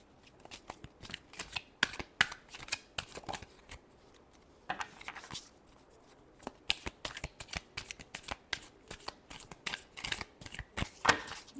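Tarot cards are shuffled by hand in repeated quick riffling bursts of crisp papery flicks, close up, with brief pauses between bursts and no speech.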